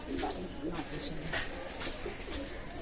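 Pakistani Teddy pigeons in a loft coo repeatedly in soft rhythmic bursts close by, with someone talking over them throughout.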